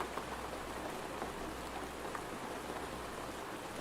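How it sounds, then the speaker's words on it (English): Rain falling on rocks in the survival game Road to Vostok, a steady soft hiss of raindrops without variation, fairly faint and without talk. "We can see the raindrops impacting on this rock"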